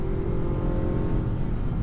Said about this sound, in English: if you love driving, you'll definitely appreciate the engine noise